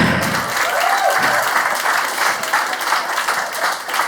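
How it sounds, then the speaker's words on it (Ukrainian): Dense, steady applause from a stand-up comedy audience fills the room, loud and continuous throughout with no pause. "Ваші оплески."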